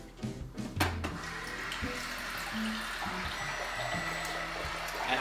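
Tap water running into a cup for vegan brownie batter in a home kitchen, a steady rushing flow after a few clunks and knocks at the start.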